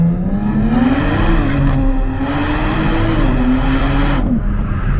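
A Nissan 400Z sports car launches and revs up hard, heard from inside, its loud rising drone climbing through the gears in a steady pull.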